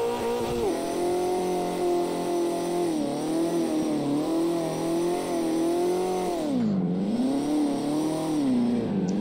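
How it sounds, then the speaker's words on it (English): A race car engine in the video game CarX revs continuously, its pitch rising and falling through gear changes, loud and close with no talking. "I like how the car sounds."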